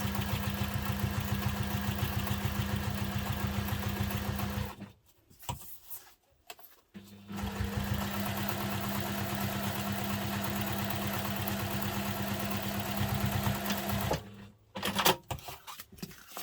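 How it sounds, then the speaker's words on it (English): A sewing machine runs in two long, steady bursts, basting the side seams of a fabric messenger bag with a small seam allowance, its rapid mechanical stitching close and loud, with brief pauses for handling in between. "Just using a small seam allowance because we are just basting it."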